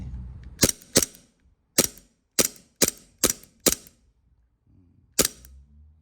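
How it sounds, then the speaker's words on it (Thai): An ICS Korth airsoft revolver dry fires in a series of sharp, close metallic snaps, eight crisp clicks in an irregular rhythm with brief pauses between them. "เดี๋ยวลองยิง แห้งกันดูเนาะกดตัวคันค้างเอาไว้"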